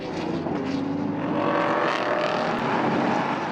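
Porsche and Ferrari GT race cars at speed on the Portimão circuit during a Le Mans Cup race, a loud, steady high-revving engine roar with no break.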